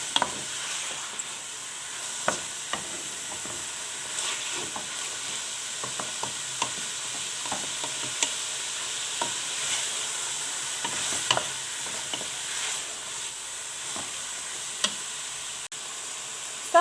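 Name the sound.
chicken breast searing with vegetables in a pan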